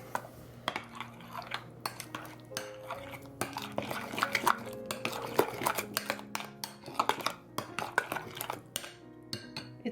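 Pumpkin cookie batter being stirred in a bowl, a busy run of close spoon scrapes, taps and clinks against the dish repeating steadily throughout.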